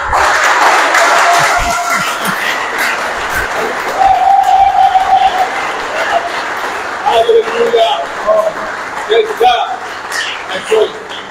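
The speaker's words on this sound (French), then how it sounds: "Non, les acclamations là sont trop petites." A worship gathering produces scattered cheering and applause mixed with voices and shouts, loud and close, rising and falling unevenly.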